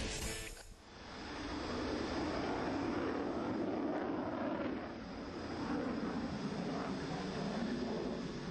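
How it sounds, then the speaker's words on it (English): A MiG-29 OVT thrust-vectoring jet fighter roars steadily through an aerobatic display with the Russian Swifts team, a loud continuous jet rush that swells and eases slightly as it passes. "Thrust vectoring aircraft to provide the moment to control the aircraft, to move it, not depending on speed"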